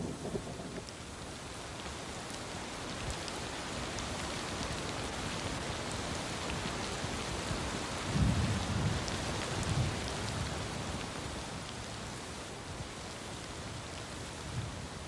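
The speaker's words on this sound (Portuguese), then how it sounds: "Com 2 meses de atraso, a chuva chega a Moru." Steady heavy rain pours across the Serengeti plains at Moru, a dense continuous hiss with a low thunder rumble swelling briefly partway through, no voices.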